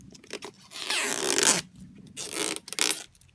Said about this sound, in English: tearing off the plastic from the display